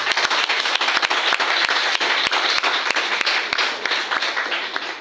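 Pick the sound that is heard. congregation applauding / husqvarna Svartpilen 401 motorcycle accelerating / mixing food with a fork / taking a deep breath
congregation applauding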